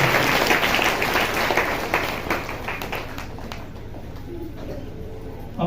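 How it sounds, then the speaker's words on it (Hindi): A church congregation claps in thanks to God, a dense wash of applause that fades gradually while birds coo and chirp in the background. "ताली बजा के परमेश्वर का धन्यवाद।"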